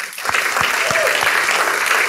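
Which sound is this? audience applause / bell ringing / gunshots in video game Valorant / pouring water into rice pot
audience applause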